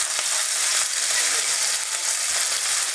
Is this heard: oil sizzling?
yes